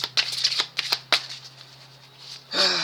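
A deck of cards is shuffled close by, a run of quick riffling flicks and taps, then a pause and a final longer riffle that ends the clip; no speech.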